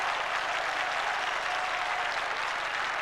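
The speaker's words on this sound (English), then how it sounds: "And it's good to hear a crowd, Peter, isn't it, applauding" Crowd at the MCG during a 1990 AFL elimination final between Melbourne and Hawthorn applauding, a sustained even wash of clapping that stays steady throughout the clip, with no voices standing out.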